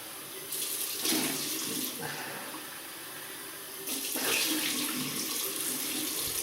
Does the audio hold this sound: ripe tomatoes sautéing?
no